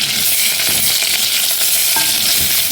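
Garlic sizzling loudly in a hot pan while being stirred, a dense continuous frying hiss with faint scraping, close and steady, no talk.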